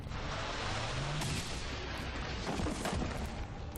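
A soldier's gunshot in XCOM 2 in a trainyard mission, a few muffled booming shots and impacts over a dense, moderately loud game background.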